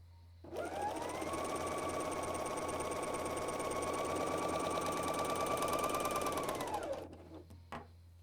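A BERNINA L 660 overlocker runs steadily for about six seconds, stitching a stretchy seam with a 4- or 3-thread overlock and differential feed set to 0.7, its fast mechanical whir close and loud before stopping abruptly.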